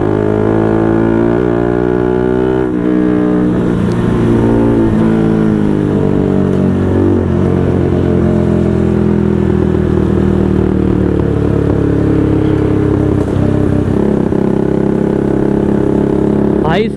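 A modified Bajaj AS200 converted to an NS200, fitted with an SC Project exhaust, rumbles loudly on a night ride, its revs rising and falling in steady sweeps while people talk over it.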